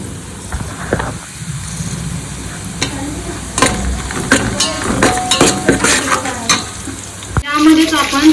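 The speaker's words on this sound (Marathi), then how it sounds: "इकडं कांदा थोडासा लालसर झालाय आणि त्यातच मी ह्या 3-4 मिरच्या ऍड करतेय" Onions and three or four green chillies fry in a pan, sizzling loudly up close while a utensil stirs and scrapes against the metal in irregular clinks and knocks.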